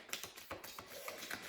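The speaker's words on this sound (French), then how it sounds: "si vous entendez des petits tic tic tic tic tic, c'est mon chien qui est monté" A dog walks across a parquet floor, its claws making light, irregular ticking taps close by, with no voices over them.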